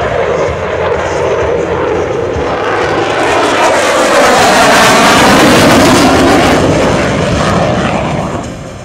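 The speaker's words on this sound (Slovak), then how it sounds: "zvukový efekt prídavného spaľovania dvojice motorov Eurojet EJ200" A Eurofighter Typhoon's twin Eurojet EJ200 engines roar on afterburner close by, pitch sweeping as it passes, filling the air with rumbling noise.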